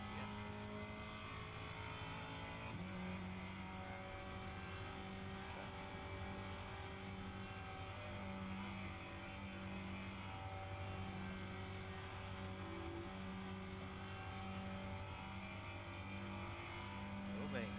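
Race car engines in the iRacing sim game hum steadily and continuously at moderate level throughout, with a shift in pitch partway through and a faint pulsing drone.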